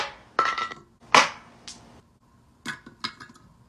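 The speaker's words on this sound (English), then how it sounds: "now I'm going to gently hammer on the letters to try to get them out." Hammer gently tapping on letters to knock them out of an object, a few sharp metallic knocks spaced irregularly, close and fairly loud with quiet gaps between them.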